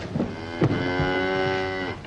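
A cow on a farm gives a long, loud, close moo that holds steady for over a second, with a few faint knocks and rustles before it.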